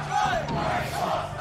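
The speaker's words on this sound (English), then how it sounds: "And the crowd going kind of crazy right now." Crowd at a Super Smash Bros. Melee tournament loss-bracket final roars and yells in a brief burst of excited cheering, loud and dense throughout.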